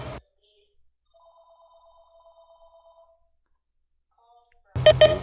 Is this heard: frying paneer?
no